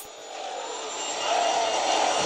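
A helicopter in the Unkilled mobile shooter game roars with a continuous whirring engine drone that swells louder partway through, close and steady.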